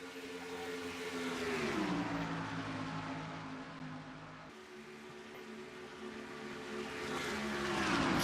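Several NASCAR stock cars roar loudly through the third and fourth turns of an oval race in a racing video game, the engine pitch sweeping down and rising again as the pack passes.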